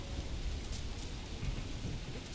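Rain falling in a video game beta, a dense continuous hiss with a low rumbling undertone, steady and moderately loud, no voices.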